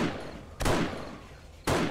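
Gunfire in the zombie survival game 7 Days to Die: two loud, sharp shots about a second apart, each with a short decaying tail, heard close with no talk.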